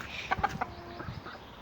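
A hen clucks in a quick series of short, close calls, then a few softer clucks trail off.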